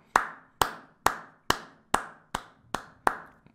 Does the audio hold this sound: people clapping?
yes